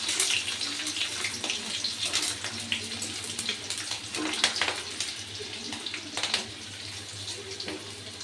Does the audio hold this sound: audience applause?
no